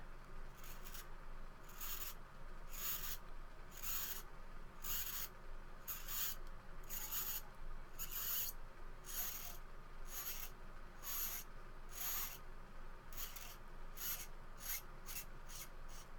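A Satellite Tools Penrounder hobby chamfering tool rounding the edge of a pen, held at about a 45-degree angle, giving a steady series of close, quiet rasping scrapes in an even back-and-forth rhythm.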